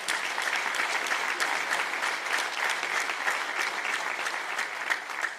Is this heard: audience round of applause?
yes